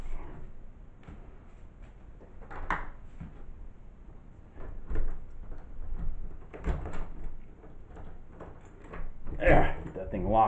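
Heavy glass rear door of a display home opening and closing, with wooden knocks and a latch clunk spread across the clip beneath steady talk from a person nearby.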